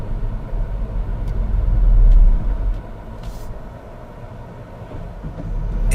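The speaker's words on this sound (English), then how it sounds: "it had started rumbling as the revs dropped below tick over" A car engine rumbles low and heavy as revs sag below tickover with the clutch pressed too late, a close, swelling judder that peaks then eases while the car slows on a quiet road.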